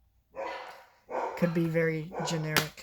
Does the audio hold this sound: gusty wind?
no